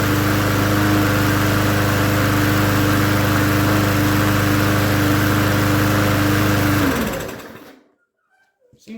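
A free small lawn mower engine, newly refueled, running at a steady loud drone up close before shutting off and winding down to silence, followed by a brief faint sound.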